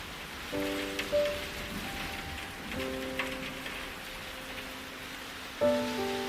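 Steady rain falls on a surface as a soft, even wash with a faint background tone, continuous and fairly quiet throughout.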